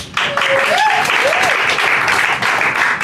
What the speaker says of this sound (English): I feel like you felt obligated to clap for me